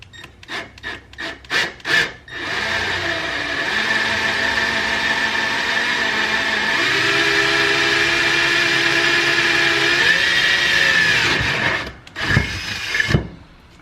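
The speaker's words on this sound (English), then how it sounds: "put it on the tip of my drill bit there, and then we're gonna go ahead and start on the first hole" A few short scraping bursts, then a power drill runs steadily for about ten seconds drilling a hole for a DIY beadlock wheel, its whine dipping in pitch, before stopping and scraping again.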